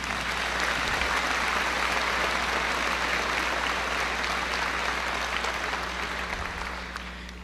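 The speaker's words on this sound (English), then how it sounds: "Let's give them a round of applause" Sustained applause from a large audience at a high school graduation ceremony, honoring alumni; dense, steady clapping fills the whole stretch and tapers slightly near the end.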